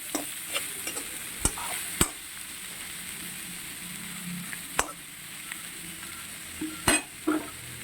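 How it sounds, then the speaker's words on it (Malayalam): Chopped banana flower hisses in a hot pan as a spatula scrapes and knocks against the metal in irregular bursts, a few sharp clacks standing out over a soft continuous sizzle. "ഇതിലേക്ക് അരിഞ്ഞു വെച്ചേക്കുന്ന വാഴക്കൂമ്പ് ചേർക്കാം മിക്സ് ചെയ്ത്"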